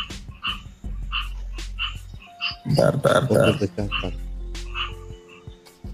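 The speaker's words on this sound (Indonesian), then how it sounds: "Ini kodok siapa ini?" Frogs croak loudly in a rhythmic series of close, throaty calls, with a burst of overlapping croaks midway, while a person speaks briefly over them.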